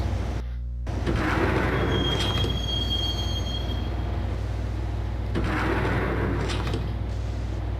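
Subway train ride in the Max Payne video game: doors slide shut, then a steady rumbling roll of a carriage on rails, with loud metallic wheel squeals rising twice, close and continuous.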